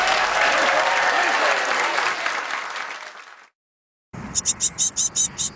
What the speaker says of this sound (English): Round of applause for our guest